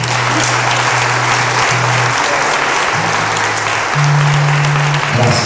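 Steady, loud clapping fills a Methodist church in Belo Horizonte during a Father's Day service, a dense continuous wash of many hands with a low hum running underneath.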